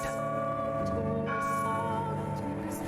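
Layered church bells in The House in Fata Morgana ring continuously as a dense, resonant wash of overlapping tones. They are sustained and moderately loud, with no voices.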